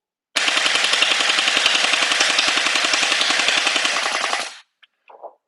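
A GSHOTOY HK416 gel ball blaster fires a rapid, continuous burst of about four seconds, with sharp evenly spaced shots close and loud, and a brief rattle afterward.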